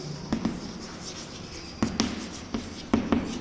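Chalk or marker strokes on a classroom board during a botany lesson on flower morphology, a few short scratchy taps and strokes in small clusters, fairly close, with no talking.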